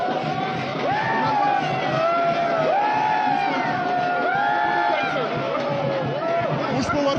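A crowd welcomes politician Raj Thackeray on his arrival in Aurangabad with cheers and whoops, while a loud voice chants or shouts in rising, repeated phrases over the steady, dense hubbub.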